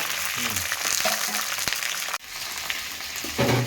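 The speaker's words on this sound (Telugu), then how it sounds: "కొంచెం నూనె పోసుకుంటాం ఓకే ఫ్రై చేస్తాం బెండకాయలు ఫ్రై చేయాలి" Okra fries in oil in a kadai with a steady, close sizzle, broken by a brief stir and a short drop before the hiss resumes.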